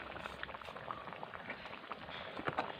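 A pot of fish curry at a steady rolling boil, close and even bubbling with dense little pops and gurgles throughout and no voices.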